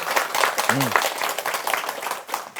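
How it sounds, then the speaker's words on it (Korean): Dense, steady clapping from a crowd fills the whole stretch, a continuous wash of hand claps at moderate loudness with a brief low tone near the start. "저는 박수를 좀 쳐주셨으면 좋겠어요"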